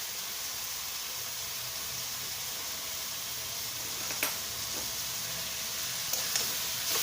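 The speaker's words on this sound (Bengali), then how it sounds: "এরপর আমি কচু শাক দিয়ে দিচ্ছি।" Taro leaves go into a frying pan with ridge gourd and sizzle steadily at close range, with a few light clinks of stirring near the end.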